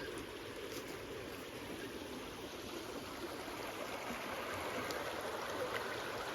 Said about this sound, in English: Waking up next to the creek.